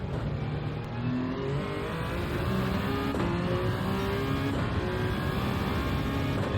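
A race car in Gran Turismo 7 drives hard under a constant loud engine drone, its pitch stepping through gear changes as it brakes and powers on, with no voices.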